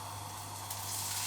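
Rice hits a very hot, oiled frying pan for leftover fried rice, giving a brief, steady, close sizzle with no voices.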